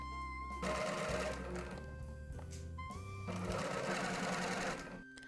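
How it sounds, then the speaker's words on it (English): Sewing machine edge stitching a shirt hem, running in two close, steady whirring bursts separated by a short pause. "You'll edge stitch this, so sew this about 1/8 away from the edge of your fold."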